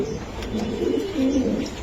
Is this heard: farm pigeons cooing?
yes